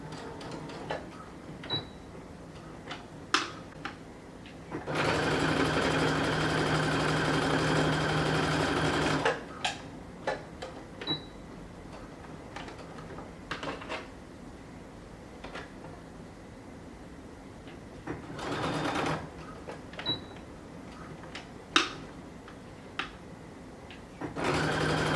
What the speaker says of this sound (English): back stitch, and keep sewing